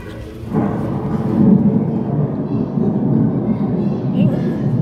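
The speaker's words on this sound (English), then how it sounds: "so that's what a thunderstorm is" A thunderstorm sound effect plays at a museum exhibit on weather, a steady loud low rumble of thunder with a hiss like rain, lasting throughout, with faint voices in the background.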